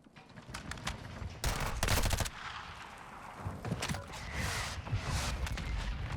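Warzone 2 gameplay fills with loud, close automatic gunfire: several rapid bursts and rattling volleys over a few seconds, with scattered single shots and background battle noise between them.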